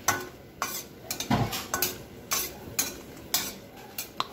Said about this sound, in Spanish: Siempre que se fríe este tipo de chile.